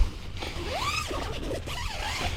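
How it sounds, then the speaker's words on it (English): A tent zipper is pulled open in a few quick, rasping strokes, close by and fairly quiet. "One zipper"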